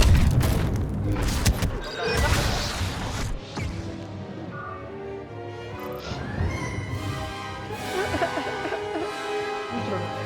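Blaster fire and explosions in Star Wars Battlefront II ring out loud and busy, with booms, rapid zaps and crashing impacts layered over game music and effects for about ten seconds, with a player's voice partly under the din.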